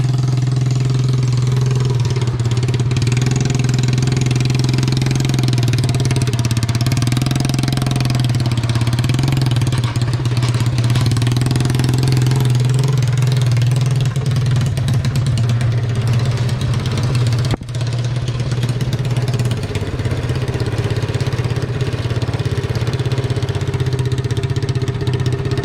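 A steady, loud engine idles close by throughout, a low even rumble with a faint knocking texture, as a car is eased onto grass near a garage during the Dream Cruise.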